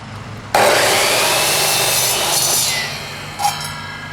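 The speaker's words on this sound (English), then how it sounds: "Now I can trim this piece to 30 inches using my miter saw." A miter saw cuts through a wooden piece with one loud, sustained rasping buzz lasting about three seconds, then tapers off with a brief clack.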